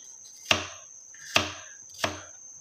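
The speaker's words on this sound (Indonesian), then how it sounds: "kita memotong dia menjadi dadu seperti ini." A knife dices peeled apples for apple pie filling on a cutting board, three crisp separate chops at an uneven pace, close and clear with no talk and a faint steady whine behind.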